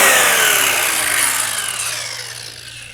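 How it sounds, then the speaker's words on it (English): A power saw cuts through a wooden table to trim it, a loud continuous whining buzz right up close that gradually eases off over a few seconds. "this table kind of needs a little bit of a trim"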